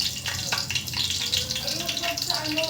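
Garlic sautés in a pan for ginisang sitaw, a Filipino string bean stir-fry, giving a steady close sizzle with scraping stir strokes and a few light clinks.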